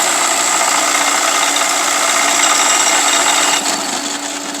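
An NV4500 manual transmission turns over in third gear, giving a loud, steady mechanical whine and hum with a constant tone that eases off slightly near the end.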